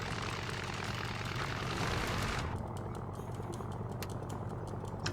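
Aircraft engine starting in the video game Stranded Deep: a steady droning rumble that shifts partway through into a lower hum with faint clicking, moderately quiet.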